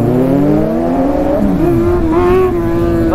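A Kawasaki ZX6R motorcycle pulls up close by. Its engine climbs and falls in pitch through several quick revs over a few seconds, and no voices are heard.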